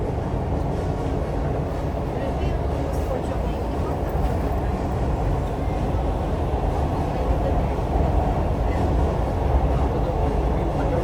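A Dubai Metro train carries riders along, a steady low rumble and whoosh of the carriage in motion filling the whole stretch, continuous and fairly loud with no clear talk over it.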